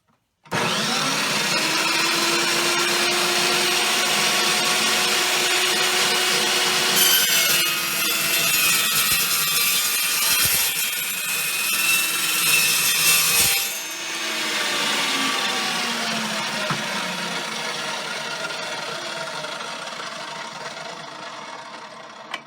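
An Evolution EVO380 chop saw cuts through 2-inch steel angle iron, a loud, continuous metallic grinding whine that shifts in pitch as the blade bites through and winds down near the end.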